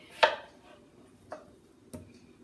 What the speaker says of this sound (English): you just want to make sure that you chop it small enough that it can fit in your measuring cup